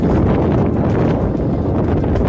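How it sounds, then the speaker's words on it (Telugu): Strong wind roars steadily against a microphone during a weekend motorbike ride through a Vizag colony, a continuous loud rushing buffet with no speech. "గాలి మాత్రం సూపర్ వస్తుంది,"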